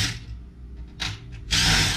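A power drill backs screws out of a computer tower being scrapped, giving short whirring bursts separated by pauses, then a longer sustained spin at the end, close and fairly loud.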